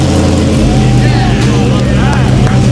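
A GMC's 6-liter LS V8 fires up and runs loudly and steadily at close range, its low rumble constant throughout the short stretch, with faint voices under it.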